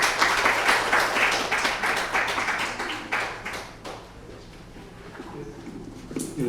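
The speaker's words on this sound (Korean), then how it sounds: "박수로 맞이해 주십시오." A seminar audience applauds as a speaker is introduced, a dense, steady patter of many hands clapping that thins out midway and swells slightly again at the end, with no speech over it.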